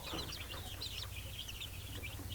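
Hens clucking and chirping busily without a break, over a steady low hum in the background.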